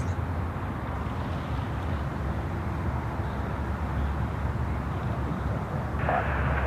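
A jet airliner roars steadily as it takes off from runway 34 left at Sydney Airport, a continuous broad engine rumble heard from a distance at an even level, with no talking.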